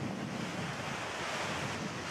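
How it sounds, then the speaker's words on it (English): Strong wind roars across the microphone with breaking waves and surf while a sailboat runs offshore in a steady 30 to 35 knot wind with gusts into the low 40s, a loud continuous rush with no voices. "The wind's blowing a steady 30 to 35, with gusts coming through in the low 40s"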